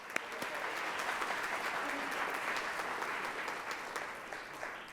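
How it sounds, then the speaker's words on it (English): An audience claps steadily for several seconds, a dense, even patter of many hands that fades slightly toward the end. "Let's have a round of applause for all of them"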